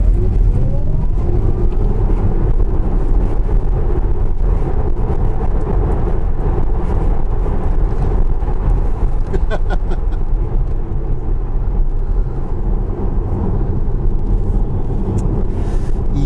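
A Tesla Model S P100D launches hard in Ludicrous mode, heard from inside the cabin as a loud, steady roar of road and wind noise with a rising electric whine. No one speaks.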